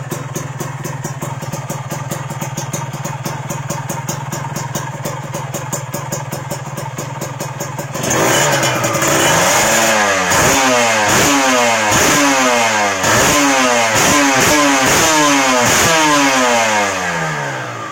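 A Yamaha RX King motorcycle fitted with a Ninja engine runs nearby and loud, first with a steady rattling idle, then with a series of sharp throttle blips, each rising and falling back in quick succession.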